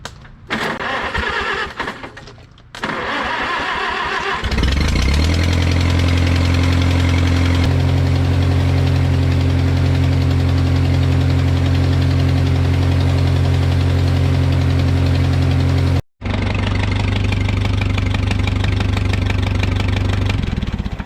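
An Oliver Super 55 tractor engine fires up after a few uneven bursts, then settles into a loud, steady knocking idle close by, with a brief cut near the end before it carries on running.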